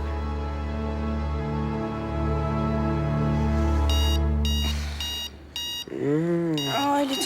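An alarm clock rings with a rapid run of electronic beeps in repeated bursts, heard over a sustained musical tone with voices nearby.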